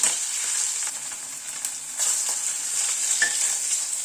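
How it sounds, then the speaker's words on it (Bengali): Pieces of rohu fish fry in hot oil in a small wok, giving a steady close sizzle with faint crackles throughout and no voices. "কড়াইটা যেহেতু ছোট সেই জন্য আমি 2 পিস করে মাছ ভাজছি"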